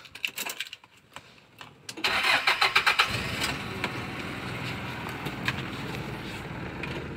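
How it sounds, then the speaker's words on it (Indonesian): Jeep's engine cranks briefly, then catches and settles into a steady, close idle, preceded by a few faint clicks and handling noises. "mobil jeep kita dengerin mesinnya"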